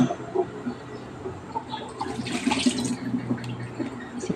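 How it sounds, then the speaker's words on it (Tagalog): Raw meat being washed in water while cooking a home meal, sloshing and splashing with irregular soft trickles and drips, close and moderately quiet. "Ang lamas naman ang ating hugasan."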